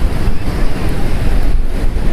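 Strong wind at the seashore buffets the microphone in a loud, rumbling roar, mixed with the wash of surf, throughout the short stretch.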